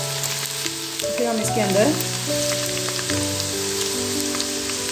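Onions fry on high heat in a pan, giving a steady close sizzle with a brief stirring scrape, while someone talks over it.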